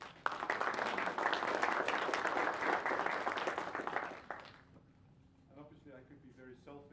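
Applause from a conference audience for a panel at a superconductivity summit, loud and dense for about four seconds before quickly fading, followed by someone speaking.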